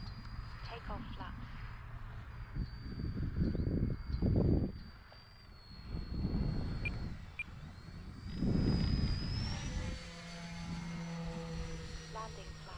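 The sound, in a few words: Dynam Grand Cruiser V2 RC airplane flying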